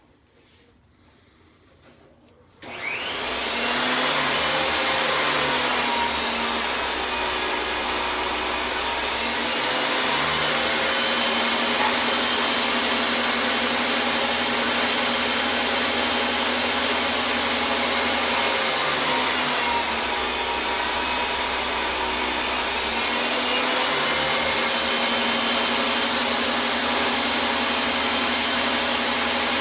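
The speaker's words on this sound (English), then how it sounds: "is Jim Hines cutting that Alumilite block on the table saw" A table saw cuts through an Alumilite resin block, starting abruptly after a quiet moment and holding a loud, steady whine with a grinding rasp for nearly thirty seconds, with slight dips in pitch as the blade works through the material.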